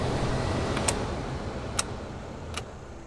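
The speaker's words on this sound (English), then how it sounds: "Got our new blower motor in, back in action in the interior." A new blower motor in a Toyota Tacoma hums with a steady airy whoosh inside the cab, punctuated by three sharp clicks spaced about a second apart as the speeds are switched.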